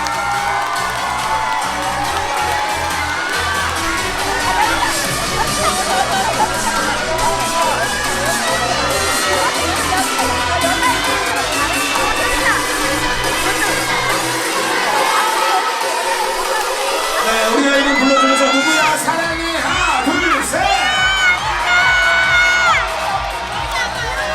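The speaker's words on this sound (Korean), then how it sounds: "박수 소리가 더 크게 나와야 됩니다." An audience at a children's learning festival finale in a hall cheers loudly with shouts, whoops and applause. A brief lull gives way to renewed cheering and children's high excited voices.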